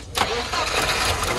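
A car engine cranks and catches, then runs at a rough idle close by, loud and steady after a short starter burst.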